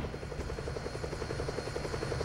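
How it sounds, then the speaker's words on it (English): A helicopter in the video game Fighting Force gives off a steady, loud rotor chop, a continuous pulsing thrum that fills the short stretch alone, with no voices. "do y'all hear this loud-ass helicopter? It's screaming in my ear."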